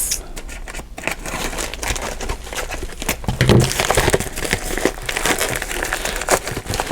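Blade slicing and crinkling through a cardboard washi tape box, a close, continuous rustling and scraping with small crackling tears, no talking.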